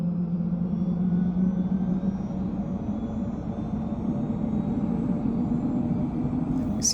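An OH-58 Kiowa helicopter turbine winds up during engine start in a flight simulator, a steady droning whine with a low rumble holding constant throughout.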